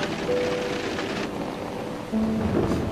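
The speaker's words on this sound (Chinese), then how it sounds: "下雨了" Rain falls in a steady, dense hiss, with a faint tone drifting over it and no voices.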